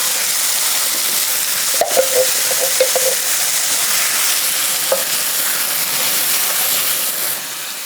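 Canned crushed tomatoes going into a hot pan for ratatouille, producing a loud, steady broadband sizzle and hiss with a few soft stirring knocks, close by and without voices.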